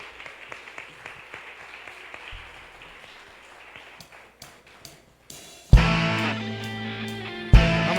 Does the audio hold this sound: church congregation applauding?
yes